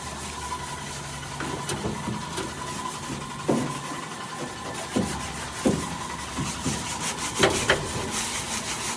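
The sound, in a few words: sanding putty on a Suzuki DE63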